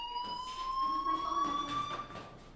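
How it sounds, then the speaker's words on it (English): A fire alarm in the Life is Strange video game rings with a steady high electronic tone and pulsing bursts, moderately loud and continuous across the clip. "Hey, do you hear that fire alarm?"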